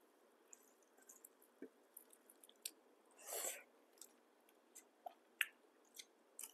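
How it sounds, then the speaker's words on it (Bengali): Someone eats rice with taro and potato curry, giving soft, close, wet chewing and squishy mouth sounds with intermittent small clicks and one louder smacking burst in the middle, quiet and without talk. "আগে খাচ্ছি কচু আলুর তরকারি দিয়ে।"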